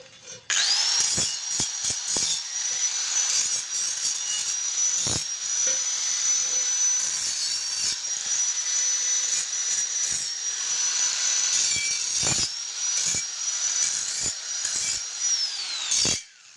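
A power tool cuts holes in the metal body of a homemade wood-burning rocket stove, giving a loud, sustained high-pitched grinding whine for about fifteen seconds, broken by brief pauses and clicks.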